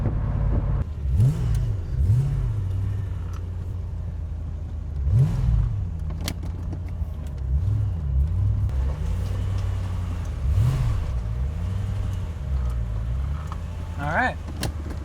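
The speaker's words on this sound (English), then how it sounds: "we're gonna go under this overpass here, and I'm gonna hit the gas. We're gonna hear what it sounds like." A Corvette engine accelerates beneath an overpass, its low exhaust note rising and falling in several throttle surges over steady road rumble, with brief voices underneath.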